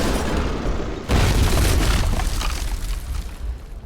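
A warhead blows up in the video game Fallout: New Vegas: a loud, sudden boom about a second in, followed by a dense rumbling tail that slowly fades over several seconds.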